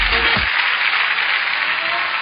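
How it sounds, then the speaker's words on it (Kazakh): An audience applauds poets at an aitys poetry event, a dense, steady wash of clapping from many hands that carries on evenly throughout. "айтыскер ақын Талант Арынғали шапалақ қошеметтеріңіз"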